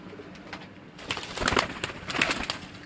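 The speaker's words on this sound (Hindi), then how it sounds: "ये जो कबूतर आप देख रहे हैं ये उस्ताद मियाँ नज़ीर मरहूम आफललियानी उनके घर की जो कमगर ब्रीड है" Kamagar breed pigeons, the spotted chhapdar type, coo faintly while bursts of wing flapping and rustling flutter up loudly close by in the second half.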